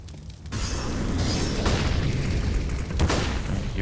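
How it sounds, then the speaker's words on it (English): A molotov burns in Counter-Strike on the Nuke map, a loud, continuous broadband roar and crackle that holds steady for several seconds, with a slight swell near the end and no speech. "Molotov's down in the hut"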